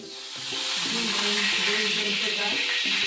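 Jitada fish pieces frying in a few spoonfuls of hot oil over low gas, a bright steady sizzle that swells within the first half second and holds, with a voice talking over it.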